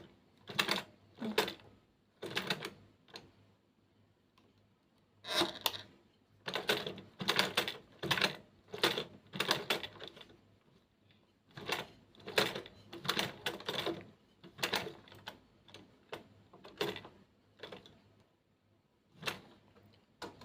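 A sewing machine stitches in short rhythmic bursts separated by brief pauses, probably backstitching, while a DIY wooden bamboo handle is made; the rapid mechanical clatter is close and clear over a quiet room.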